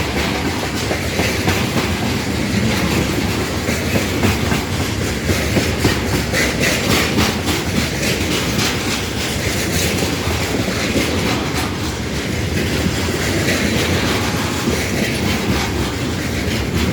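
A train rolls along the track past the platform at Irpin railway station, a loud, close, continuous rumble with rhythmic clickety-clack from the wheels throughout.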